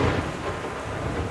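Heavy rain pours steadily during a thunderstorm in Cobb County, a dense, loud hiss of downpour with low rumbling beneath it, continuous and close throughout with no voices.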